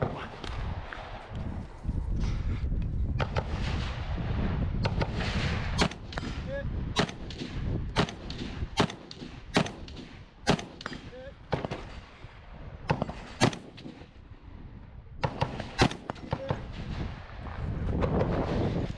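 Rifles fired at an outdoor rifle match, a long run of sharp, loud cracks, sometimes rapid and sometimes spaced, with echoing tails between shots.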